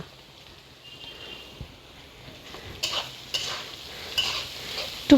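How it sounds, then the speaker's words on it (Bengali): Pumpkin pieces frying with browned onions in a pan make a soft, steady sizzle with light stirring scrapes, growing busier and louder toward the end, close by with no talk. "পেঁয়াজটা লাল হয়ে এসছে এবার আমি কুমড়োগুলো এতে ঢেলে ভেজে নেব"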